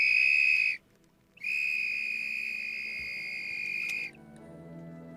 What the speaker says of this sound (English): The whistle is 3 to 5 times louder than the human voice.